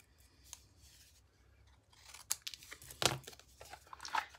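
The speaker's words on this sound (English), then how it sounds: "got my multi-purpose scissors and just curved it around and just neaten up the edge" Multi-purpose scissors snip and crunch through paper, trimming a curved edge in a run of close, sharp cuts, with faint crinkling between them and no talking.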